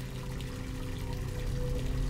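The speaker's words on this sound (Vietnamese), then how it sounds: "Tiếng nước chảy ở nhà tắm hay ở đâu thế nhỉ?" Running water in an animated cartoon makes a steady, even rushing stream that gradually swells slightly louder, with no voices over it.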